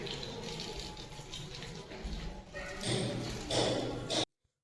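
Water is poured out in a continuous splashing gush at close range. It swells near the end and then cuts off abruptly into silence.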